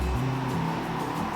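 A car rushes past close by with a steady roar of engine and tire noise.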